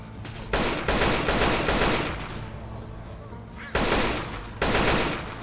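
Bursts of automatic gunfire from guns in the video game Left 4 Dead 2, loud, close rapid volleys in several separated bursts with short pauses between, shouting voices around them.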